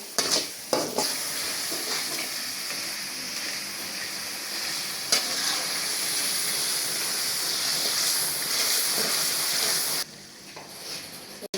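Spice masala frying steadily in oil over a low flame for moong dal tadka, a continuous sizzle with occasional stirring scrapes, close and alone without talk.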